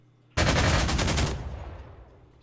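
Fighter planes strafe ground units in the war game Panzer Corps 2: a sudden loud burst of rapid machine-gun fire lasting about a second, then a booming tail that fades out.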